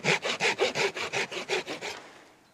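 A hand saw cuts through wood to rebate pot hanger pieces for a bushcraft project, with about ten rhythmic rasping strokes close by before the sawing stops and fades into quiet.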